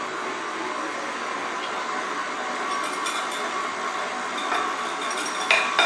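A KitchenAid stand mixer creaming butter and sugar for a banana cake, a steady close motor whir with faint clinks against the bowl throughout.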